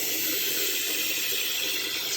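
Water pours steadily over a bag of sand during its first rinse, just about to overflow, making a continuous close rushing, hissing flow with no pauses.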